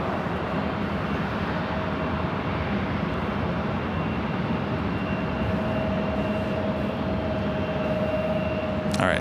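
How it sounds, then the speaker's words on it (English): A Korean Air jet rolls for takeoff on runway 25 left at LAX, a steady broad roar of engine noise holding at close range throughout, with a faint whine running through it. "Korean Air Flight 18 now rolling down at 25 left there on the south side"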